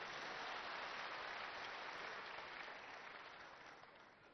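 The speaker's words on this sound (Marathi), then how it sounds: "एकदा सगळ्यांसाठी टाळ्या वाजवा" Crowd at a political rally claps in a dense, continuous burst of applause that stays strong and then slowly fades toward the end, with no talk over it.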